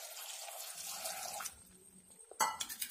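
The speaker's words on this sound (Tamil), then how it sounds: "இதோடு நம்ம ஒரு செம்பு தண்ணி சேர்த்துக்கிறோம்." Water is poured into a pot of cooking vegetables with potato and tomato for a brinjal kadaiyal, a short splash followed by clinks of metal cookware and light drips, close and fairly quiet.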